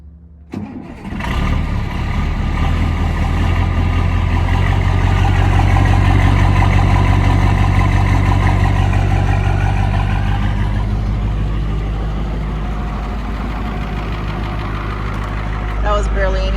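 A bus engine starting up after sitting through winter: a brief crank catches and builds into a loud, steady low rumble that settles into idle, heard up close and alone.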